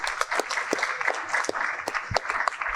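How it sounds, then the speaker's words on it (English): An audience at a talk gives a round of applause, steady clapping from many hands with sharper nearby claps standing out. "they gave you a rounding applause after I said that"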